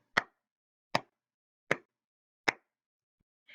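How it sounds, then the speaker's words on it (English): Single pair of hands clapping loudly and close up, four sharp, evenly spaced claps about three-quarters of a second apart in near silence, followed by a faint trailing sound. "Now clap really loud."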